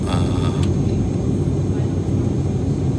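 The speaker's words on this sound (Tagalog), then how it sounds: "Taxing yung aeroplano natin" An airliner taxis on the runway at Frankfurt International Airport, heard from inside the cabin as a loud, steady engine rumble and broadband roar, with a voice speaking briefly over it.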